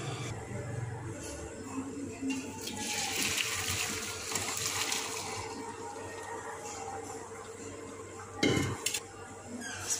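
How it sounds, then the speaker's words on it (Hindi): Cooked spaghetti and its boiling water pour from a pot into a strainer in a kitchen, a steady rushing splash with a clank of metal cookware near the end. "फ्लेम ऑफ कर रही हूँ मैं और इसे स्ट्रेनर में डाल दूँगी"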